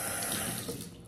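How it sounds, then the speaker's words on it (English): Tap water runs steadily into a container, a continuous splashing rush at close range with no pause. "Fill it up. Cold water."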